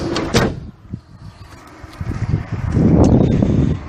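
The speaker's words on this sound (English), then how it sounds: "Just close the door." The door of a 1995 Toyota Estima Lucida is shut, a close, solid thud followed by rustling and a low rumble as someone moves around the van.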